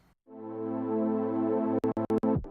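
Synth chord bounced in place and chopped, holding a steady sustained harmonic tone before breaking into a quick stuttering series of short rhythmic chops near the end, loud and alone.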